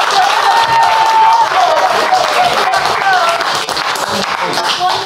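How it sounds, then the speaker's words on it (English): An audience gives a big round of applause, a loud, sustained patter of many hands clapping with some crowd noise, and voices speak over it throughout. "Let's give a big round of applause."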